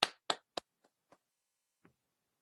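A handful of scattered claps at a Senate public hearing: a few quick, fairly crisp claps up front, then sparse fainter ones trailing off into silence.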